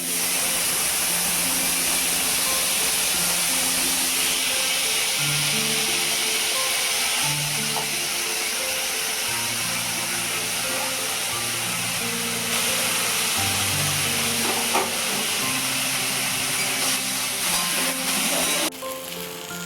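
Boiled potatoes go into a hot pan and fry with a steady, loud hiss and sizzle that runs unbroken throughout, alongside low tonal hum from a nearby appliance.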